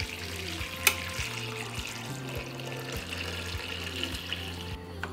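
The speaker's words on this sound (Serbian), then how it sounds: "Zatim ću u šerpu sipati toplu vodu." Warm water pours into a pot lined with a cloth and holding glass jars, ready for pasteurizing; a steady, close splashing stream runs throughout under a faint repeating low hum, with a sharp clink near the start.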